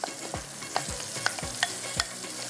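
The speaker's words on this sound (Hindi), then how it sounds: "ये देखें प्याज का कलर जो है हल्का सा फ्राई हो गया। इसके अंदर जाएगा ये सारा मसाला हमारा" Onions and masala frying for a sabzi gravy crackle and sizzle in a pan while a spoon stirs with regular scraping strokes, close and steady without speech.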